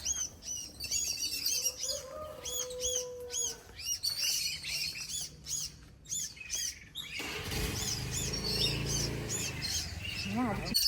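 Sparrows cry out in repeated sharp alarm chirps at a snake hiding in a curry-leaf tree. The calls come in quick bursts, fairly close, with faint voices and a rush of broader noise toward the end.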